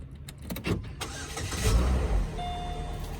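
A car engine cranks briefly and catches, settling into a steady idle, close and moderately loud, with no speech.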